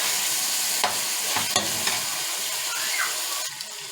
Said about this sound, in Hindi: इन सारे मसालों को हम अच्छी तरह से मिक्स कर लेते हैं और इसको कीमे के साथ थोड़ा सा भून लेते हैं